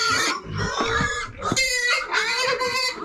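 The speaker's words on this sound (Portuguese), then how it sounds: "O porco tá indo aí" A pig in a pigsty gives loud, harsh squeals and grunts in rapid bursts, close by, with no pauses between the cries.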